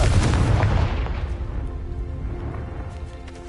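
A Confringo blasting spell detonates in a Harry Potter video game, a loud low boom at the start that rolls off into a fading rumble with faint tonal game ambience beneath.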